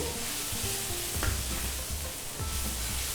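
Spiced eggplant for achari baingan sizzling and being stir-fried in a pan with ground pickle masala, a constant close hiss punctuated by soft scraping stirs.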